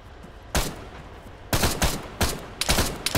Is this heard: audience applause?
no